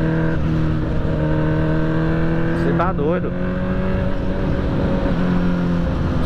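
A new motorcycle being ridden on a road, its engine humming steadily with a quick rev burst midway, close and fairly loud, while someone speaks briefly over the engine noise.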